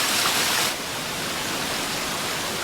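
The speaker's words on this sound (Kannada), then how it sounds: "ಜಲಪಾತದ ಶಬ್ದಕ್ಕೆ ಇವರು ಮಾತನಾಡಿರುವುದು ಯಾವುದೂ ರೆಕಾರ್ಡ್ ಆಗಿರುವುದಿಲ್ಲ." A roaring monsoon-season waterfall in Karnataka makes a dense, steady rush of broadband noise. It is loud and close, with no voices.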